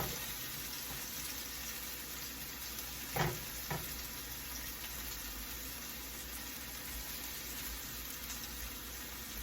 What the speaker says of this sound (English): We saute for about 2 to 3 minutes.